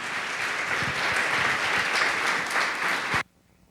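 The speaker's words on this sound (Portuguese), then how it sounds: "Vamos dar um aplauso ao Senhor?" A church congregation at a worship service applauds in a dense, steady burst of many hands, lively and close, then cuts off abruptly just past three seconds into near silence.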